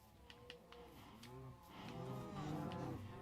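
Cows moo several times in a Minecraft world, the lowing calls overlapping and layered with light clicking game sounds, fairly close and loud with no talking.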